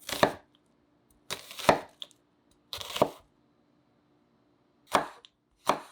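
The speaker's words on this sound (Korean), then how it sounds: "양파도 감자랑 비슷한 모양으로 준비한다." A knife cuts onion on a cutting board while preparing pork jjageuri, giving five crisp, close chopping thuds in uneven pairs and singles with quiet gaps between.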